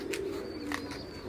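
Racing pigeons coo at a pigeon-flying competition: a few soft, throaty coos come in short bursts close by over steady background hum and faint high chirps.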